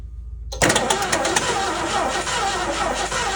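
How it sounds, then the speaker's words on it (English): A 1969 Mercury Cougar XR7 convertible's engine cranking over on the starter, starting abruptly after a short silence and continuing loud and close with a rapid rhythmic churn. "So I'm gonna try and crank this for about 15 seconds."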